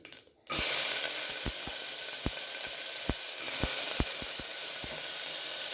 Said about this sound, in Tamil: இப்போ நம்ம வெங்காயத்தை சேர்த்துக்குவோம்.